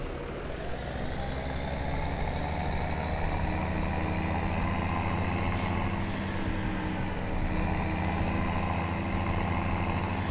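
A tractor engine idles in Farming Simulator 17, a steady low diesel drone that holds even and loud for the whole stretch, with one brief hiss partway through and no talking.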